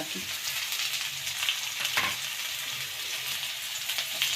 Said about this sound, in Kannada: ಆದಷ್ಟು ಆಲೂಗಡ್ಡೆನ ಎಣ್ಣೆನಲ್ಲೇ ಬೇಯಿಸಿ